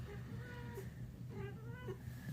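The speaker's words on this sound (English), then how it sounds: "This is little Pug, another perfectly brown kitten." A small brown kitten gives a few thin, faint meows over a steady low hum of background noise, with a short call near the start and a couple more toward the end.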